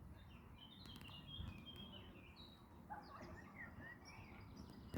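Birds chirp and sing faintly outdoors near water where fish are being watched, with scattered high calls over a low steady background rumble.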